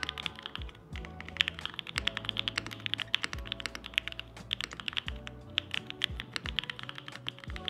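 Brisk mechanical keyboard typing, a steady run of crisp, clacky keystrokes close up, with no voices.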